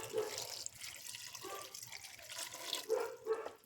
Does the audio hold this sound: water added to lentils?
yes